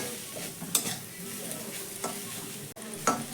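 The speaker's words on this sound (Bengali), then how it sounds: "এবার ভালো করে মশলার সঙ্গে সয়াবিনটাকে মিশিয়ে নেব" Soybean stuffing is stirred with spices in a pan, a soft continuous sizzle broken by a few distinct scraping strokes of the spoon.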